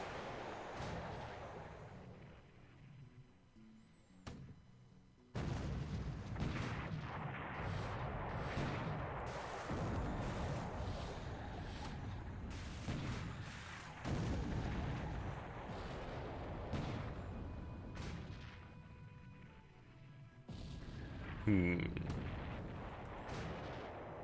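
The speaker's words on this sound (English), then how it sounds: "The Notori is firing on the Pillsbury." Naval gunfire from a warship in a surface combat engagement in the War in the Pacific strategy game, heard as repeated booming shots and rumbling blasts that run almost continuously at moderate level, with someone talking intermittently over them.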